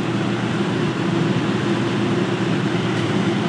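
MaxxFan roof vent fan on speed four in a cargo trailer, giving a steady, loud whooshing hum of moving air with a low drone that stays constant throughout, no talking.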